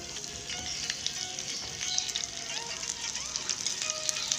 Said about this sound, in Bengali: প্রথমে আমি 5 ফোড়ন দেব, শুকনো লঙ্কা আর তেজপাতাটা দেব